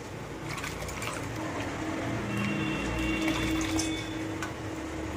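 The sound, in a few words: washed rice added to hot water in a pan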